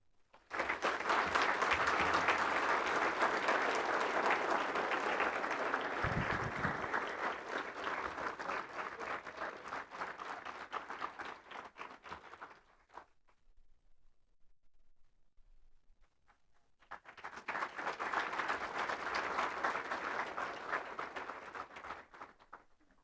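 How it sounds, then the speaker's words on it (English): Audience applause for a 2021 courageous sports award winner at a touchdown club banquet in Ashtabula, Ohio, with loud sustained clapping that fades to a brief lull before a second strong burst. "let's give Garrett a nice round of applause"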